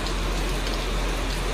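Heavy rain falls hard in Củ Chi near a long 9.6 m truck, a loud unbroken wash of drumming close by, with no voices.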